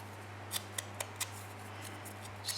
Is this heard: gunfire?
no